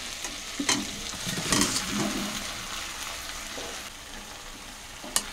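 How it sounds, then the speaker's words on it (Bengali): Malabar spinach stalks and potatoes drop into a pan of chicken frying in spices, giving a steady sizzle with stirring scrapes and a few sharp clinks, close and moderately loud. "এই যে পুঁই শাকের ডাঁটা আর আলু দিয়ে দিচ্ছি"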